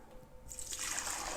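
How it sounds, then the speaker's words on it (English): Water is poured into a central vase of a rustic British flower arrangement, starting as a soft trickle and swelling into a steady, bright splashing fill, close by and without talk. "And I'm just going to top that central vase up with water."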